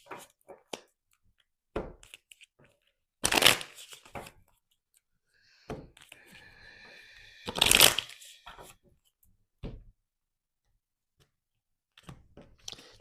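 Tarot cards are shuffled in a few separate bursts of riffling and rustling, close and crisp, with quiet gaps between the bursts.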